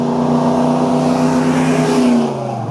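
A car engine revs with a steady droning tone that climbs slightly then drops away, loud and close.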